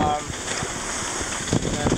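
Strong wind buffets a sailboat at sea on a passage from Puerto Rico to Chesapeake as a cold front passes, a steady close rushing noise on the microphone with faint speech beneath.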